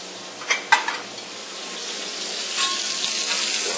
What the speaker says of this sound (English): Just want this to simmer so the flavor from the sausage is just going to sit there and infuse with everything in the pan.